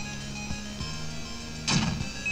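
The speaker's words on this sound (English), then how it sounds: "I like the enemy death sound." Enemy death effect from the Dragon Dreams video game: a short bright burst of digital sound over a steady low game background hum with a few soft rhythmic thumps, fairly quiet.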